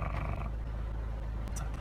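A voice imitates a petrol or diesel car engine cranking and starting, a low rumbling drone held close and loud for about two seconds with no words spoken.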